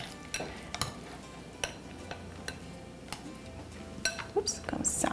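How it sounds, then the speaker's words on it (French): Two spoons scraping and clinking against a baking tray while placing healthy cookie dough, a scattered series of light metallic taps and knocks with someone talking throughout. "Avec 2 cuillères, je vais mettre ça sur ma plaque, comme ça."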